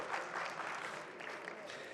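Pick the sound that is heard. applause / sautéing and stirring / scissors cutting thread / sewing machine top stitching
applause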